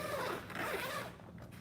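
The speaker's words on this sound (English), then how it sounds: "The zipper, For just sure. be gentle, click it back" A zipper pulled on a piece of equipment gear, a soft, close, continuous rasping run that fades out near the end, with no talking.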